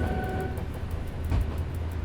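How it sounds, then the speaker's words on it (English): A train rolling along in the Simrail railway game, giving a steady low rumble with rhythmic wheel clicks and a brief fading tonal whine early on, with no talk. "It sounds like another train is leaving up ahead."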